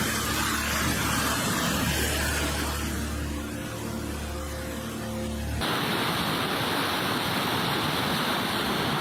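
Floodwater rushes past a primary school in a village in Rongjiang County, China, a loud, steady, broadband roar of churning water with no pauses.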